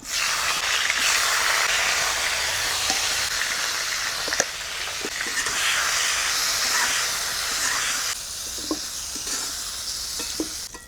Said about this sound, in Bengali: এবারে মাছগুলোকে তুলে রাখবো ফুলকপিগুলো ভেজে নেব